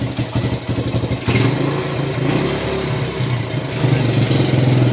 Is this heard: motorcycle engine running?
yes